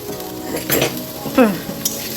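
Vegetables for khichuri sizzle in a pan as a utensil stirs and scrapes them, with a few sharp metallic clinks of the spoon against the pan, close and moderately loud, no talking.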